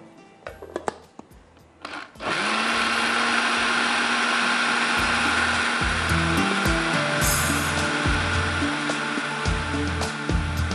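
A kitchen blender whirs into a steady, loud roar after a couple of seconds of clatter, mixing dry fruit halwa ingredients with porridge. The motor hum holds continuously to the end with slight pitch shifts as the contents churn.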